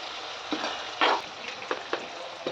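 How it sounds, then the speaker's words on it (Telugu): Chicken pieces sizzle steadily in a hot pan for Telangana-style chicken fry, with a few sharp scraping stirs of a spoon and one louder clatter, close and alone without talk. "చూడండి ఇంత బాగా వేగుతుంది."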